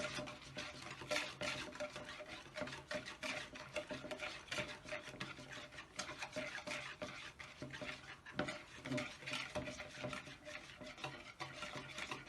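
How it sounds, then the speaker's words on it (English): A spoon stirs Greek yogurt in a bowl with soft, repeated scraping and clicking strokes, faint and close, steady for several seconds with no talking. "Greek yogurt, I'm going to mix it together."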